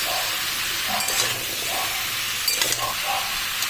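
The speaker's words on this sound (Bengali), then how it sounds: "চলুন ভালো করে ভেজে নিই।" Raw mango pickle frying in a pan, a continuous close hiss and sizzle with soft stirring scrapes at intervals.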